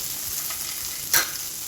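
Mustard seeds, urad dal, green chillies and curry leaves sautéing in hot oil for veg bonda give a steady soft sizzle, with one brief louder crackle or stir partway through.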